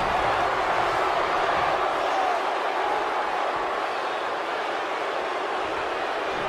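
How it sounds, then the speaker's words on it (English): A capacity arena crowd in WWE 2K20 roars at a WrestleMania dream match between Edge and Roman Reigns. The broad wash of cheering holds steady throughout. "With every move you make, you hear this capacity crowd following you on that journey"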